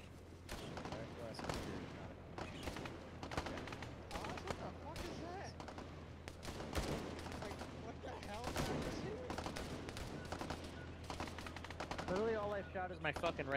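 Gunfire in a war video game with rifle grenades: dense bursts of rifle and machine-gun fire with heavy booming impacts throughout, loud and continuous, with voices talking over the combat near the end.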